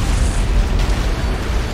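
An antimatter charge explodes in Halo CE with a loud, deep, rumbling boom that holds at full strength for the length of the sound.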